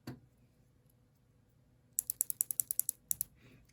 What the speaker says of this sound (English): And here's a Kailh box navy.